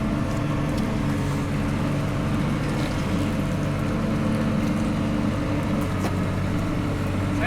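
Truck engine running at a steady idle, a continuous low droning rumble with a constant hum, close and fairly loud throughout.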